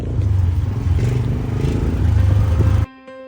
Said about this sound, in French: C'est ma moto.